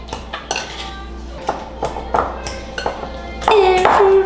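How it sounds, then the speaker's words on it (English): Metal utensils scrape and clink against a bowl while cookie dough is mixed, in a steady run of sharp close taps and knocks, with a voice now and then. "So we're gonna mix it."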